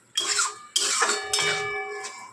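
Taro greens (kochu shak) stirred in a cooking pan with a little oil, a metal utensil scraping and clattering against the pan in three close, loud bursts with faint squeaks.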